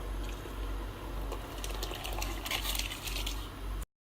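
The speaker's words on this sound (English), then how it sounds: "I'm going to add my very appetizing looking rice with the water in it into the pot." Rice and its soaking water are poured into a cooking pot for Mauritian chicken biryani, a steady splashing gush that runs for several seconds close by and then cuts off abruptly.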